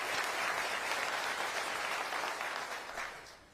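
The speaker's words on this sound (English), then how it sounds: "Can we give Steve a round of applause as well?" An audience at the 2025 State of Milwaukee County address applauds in a steady, dense wash of clapping that holds for a few seconds before tapering off, heard from a distance.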